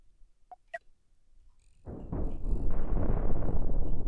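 Starship cannons in Cosmoteer fire in a dense rolling barrage of booming blasts, starting abruptly after a few faint clicks and blips and continuing loud and sustained to the end.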